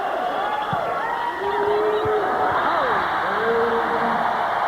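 Volleyball crowd in an arena cheering as Nalani Yamashita steps up to serve in a 1996 NCAA women's regional final between Hawaii and BYU, a sustained roar of many voices swelling and staying loud, with whistling tones over it.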